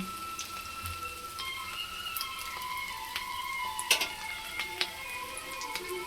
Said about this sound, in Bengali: সিম করে ভাজবো লো টু মিডিয়াম